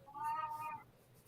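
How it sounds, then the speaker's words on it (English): A single short, faint cat meow comes from nearby against quiet room noise. "Whose cat is that?"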